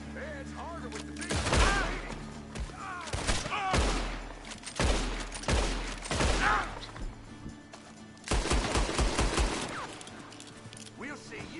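Revolver and rifle gunfire in Red Dead Redemption 2, a series of loud separate shots with bursts of cracking reports, mixed with shouted in-game dialogue.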